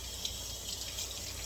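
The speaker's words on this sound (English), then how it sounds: "Every time I always rinse off my spoon, even if it is clean, I always rinse it off." A kitchen tap runs steadily while a spoon is rinsed under it, a close, continuous hiss of flowing water with no talking.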